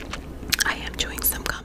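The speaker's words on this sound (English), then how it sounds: "I am chewing some gum." Gum is chewed right up close in a soft, quiet ASMR setting, with wet, sticky smacks and little clicks at an irregular pace, alongside faint breathy mouth sounds.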